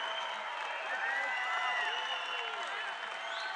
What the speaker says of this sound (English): This is a very, very rambunctious and beautiful crowd